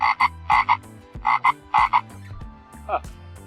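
Frog croaking near a desert shrine along the Mojave Road: repeated loud, buzzy croaks in pairs and bursts close to the microphone, with a low hum underneath and one softer croak near the end.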